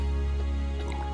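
A water purifier in the game Raft drips, a few soft plinking drops over a steady low mechanical hum, close and brief.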